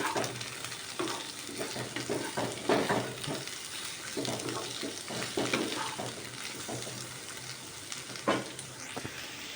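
Nalleru (veldt grape) stalks frying in a pan, with a steady close sizzle and repeated stirring scrapes throughout.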